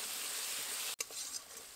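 Spices with salt, turmeric and Kashmiri chili powder frying in mustard oil alongside mango pieces, a steady soft sizzle broken by one brief sharp knock near the middle.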